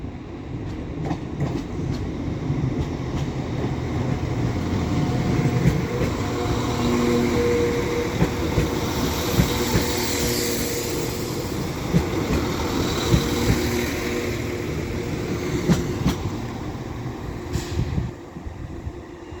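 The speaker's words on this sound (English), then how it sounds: "So now coming through is a freight train of some sort" A freight train rolls through York station on the East Coast Main Line, a continuous rumble of wagons with clicking wheel joints and occasional squeals, moderately distant and steady for the whole stretch with no voices.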